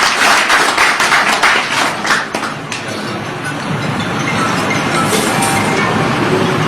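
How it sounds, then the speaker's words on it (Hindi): A village crowd at a rural election campaign gathering claps loudly to welcome a speaker. The clapping is dense and busy at first, then eases into a steady, softer patter. "साथियों जोरदार तालियों से स्वागत।"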